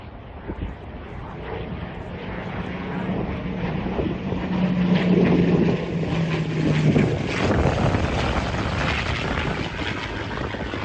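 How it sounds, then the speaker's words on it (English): A Spitfire flying right overhead at an air show during Alderney Week, heard from the harbour: a loud, rough propeller-engine drone rising and shifting in pitch as it passes, mixed with wind noise. "Our departure from Alderney coincided with the end of Alderney Week, which was marked by a Spitfire show right above our heads."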